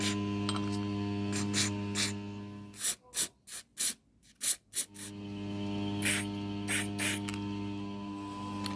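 An aerosol cleaner is sprayed into the nozzles and holes of an old lawnmower carburettor, a quick series of about half a dozen sharp hissing bursts, close up, over a steady background hum.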